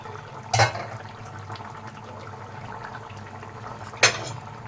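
Two sharp metallic clanks of a pot lid being opened while cooking a bitter gourd curry, one early and one near the end, over a faint steady background hum.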